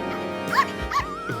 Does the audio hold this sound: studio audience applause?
no